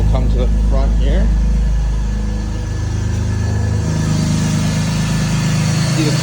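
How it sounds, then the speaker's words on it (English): A BMW E46 ZHP idles after a cold start, a loud steady low rumble close by, with someone talking over it at the start. "here's the cold start video on the E46 ZHP. Idles nicely."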